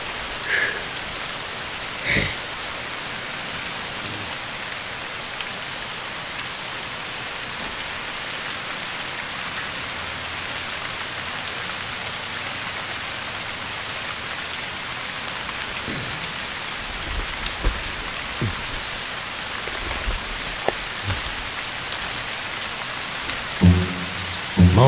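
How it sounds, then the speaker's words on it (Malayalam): Heavy rain falls in a continuous close wash on surfaces outdoors at night, with scattered sharp drips and knocks and faint low rumbles toward the end, no voices. "എന്തരാ മഴ"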